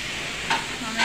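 Adobo chicken livers and gizzards cooking in a pan, a steady close sizzle with two brief louder bursts of hissing as the food is stirred.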